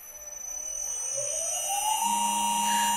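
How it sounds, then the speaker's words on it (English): A CNC spindle's three-phase motor running on a VFD spins up from rest, its whine rising smoothly in pitch and then holding a steady tone alongside a high electronic hiss, with no voices. "Let's start the spindle back up."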